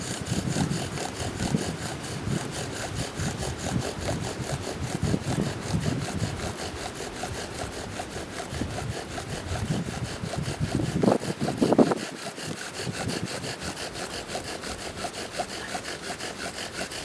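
A bow drill spins on cottonwood in a blizzard to raise an ember, giving rapid back-and-forth rasping strokes in a steady rhythm, close and moderately loud, with wind noise underneath.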